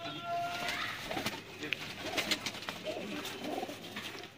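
French pigeons at a fancier's loft give low, repeated coos, fairly faint, mixed with voices talking and a few sharp clicks.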